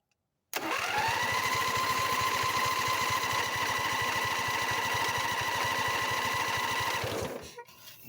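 A John Deere Z245 riding mower, a 23 hp model that fails to start, cranks on its starter with the choke on in one loud, continuous, rapid whirring burst lasting about seven seconds before it cuts off.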